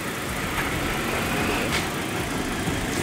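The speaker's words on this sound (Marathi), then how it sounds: "Hyundai i10. आणि दादा ऑलरेडी स्टार्टर देऊन बसला आहे गाडी." A Hyundai i10 car engine runs at a steady idle after starting, a continuous close mechanical hum with a faint rattle and no speech.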